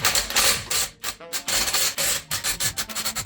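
Lug bolts on a BMW E9X/E8X wheel are broken loose with a breaker bar or impact wrench, giving close, repeated rasping and ratcheting strokes in an uneven rhythm, with a couple of short pauses.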